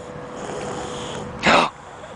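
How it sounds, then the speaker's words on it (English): A snoring beetle in Virginia's Shenandoah Valley makes one short, raspy, snore-like burst against a faint, hissy outdoor background. "the famed snoring beetle of the Shenandoah Valley in Virginia"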